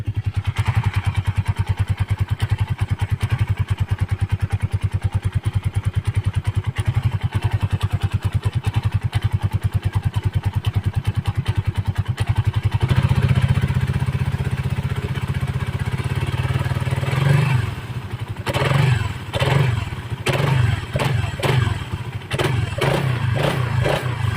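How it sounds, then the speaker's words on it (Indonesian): A used Suzuki Satria motorcycle engine runs close up on its right side, with a rapid clattering idle followed by several sharp throttle blips and revs. "baru kita tes atau kita cek suara mesinnya gitu"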